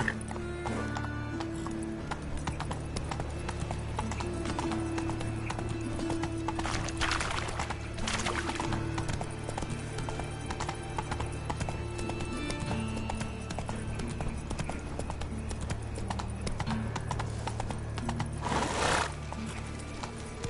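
Horse galloping in The Witcher 3 video game, continuous rhythmic hoofbeats up close with a couple of whinnies, over a steady game background.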